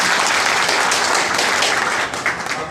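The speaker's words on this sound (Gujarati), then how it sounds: "એમના માટે જોરદાર તાળી પાડો" A crowd at a political party workers' meeting in Bodeli applauds loudly, a dense, sustained burst of clapping that tapers off near the end.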